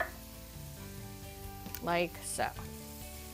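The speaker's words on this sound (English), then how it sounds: "saute some diced onions" Diced onions sizzle in olive oil in a pan, a steady frying hiss under a brief spoken remark, with a couple of short higher sounds partway through.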